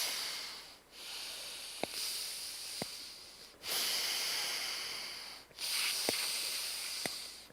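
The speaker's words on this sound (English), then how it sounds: "And now you can push the breath out like in Bhastrika." Forceful bellows breaths in a yoga session: long, loud rushes of air pushed out in repeated bursts with brief pauses between, close and alone, with a few sharp clicks.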